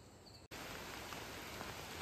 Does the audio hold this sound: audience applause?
no